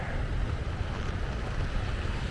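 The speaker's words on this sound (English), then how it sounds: "That wind is blowing so much it keeps moving the camera." Strong wind buffets a camera outdoors at a winter bass fishing spot, producing a steady, loud rumbling roar that lasts throughout with no talking.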